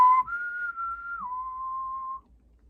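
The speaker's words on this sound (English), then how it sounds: "What's that? The little gremlin whistling." A high, steady whistled tune from the gremlin in the Christmas movie Gremlins, one sustained clear note that glides slightly higher and then drops back, lasting about two seconds, alone and fairly loud.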